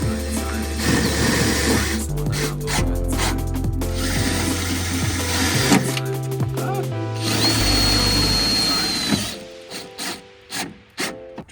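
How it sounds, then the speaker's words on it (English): Power drill driving self-tapping screws into a Skoda Fabia vRS car door, a sustained whirring drive with pitch shifts as each screw bites, then a few short sharp bursts near the end. "I'm literally just gonna put a self-tapper next to each hole, all the way around"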